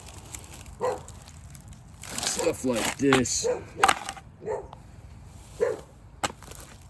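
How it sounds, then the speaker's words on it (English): A neighbor's dog barks outdoors at a junk removal and hauling job, giving several short barks in separate bursts, mixed with a person talking nearby. "Got a dog barking. I alerted the neighbor's dog."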